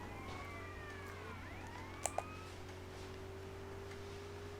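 Police sirens wail and sweep through a chase in the video game GTA Liberty City Stories, overlapping tones over a steady low engine hum with two brief ticks midway.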